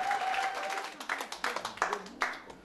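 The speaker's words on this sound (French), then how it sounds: "On acclame très fort." A seated audience at a UFC-Europe gathering in Paris applauds, building from a low murmur into dense clapping with sharper bursts that rise and fall throughout.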